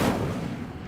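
Incendio fire spell cast in the PC game Hogwarts Legacy, a single short burst of whooshing, crackling flame with a blast-like punch, loud and close.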